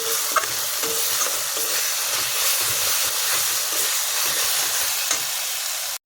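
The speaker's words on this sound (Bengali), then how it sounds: "হালকা একটু কষিয়ে নেব" Meat sautés with salt in a pan, a loud, dense, unbroken sizzling hiss with faint stirring scrapes throughout, close up and without talk.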